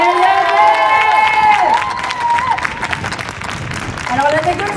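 A school concert audience claps and cheers, steady applause with scattered shouts, while a voice carries over the noise.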